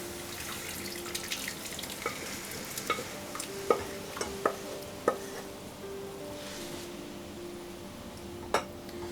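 Boiled dal poured into a hot spiced tadka and stirred, a faint wet bubbling hiss under scattered light clinks of a spoon against the pot, close and quiet with no talk.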